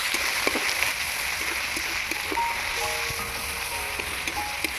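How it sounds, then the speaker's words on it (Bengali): Ginger-garlic paste fries in a pan for a cabbage dom dish, giving a steady, close hiss of sizzling throughout with no talk over it. "আদা রসুনটা ভাজা ভাজা হয়ে এসছে"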